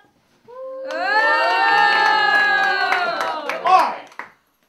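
A live crowd roars to pick a contest winner, a loud sustained cheer of many voices lasting a few seconds, swelling into a final burst of shouts before cutting off.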